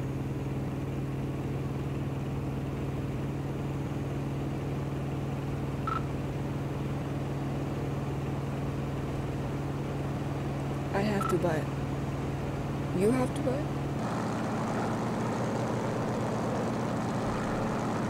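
A propeller-driven A-1 Skyraider from the video game Gunship III takes off with a steady, droning engine hum that shifts in tone near the end, while people chat over it.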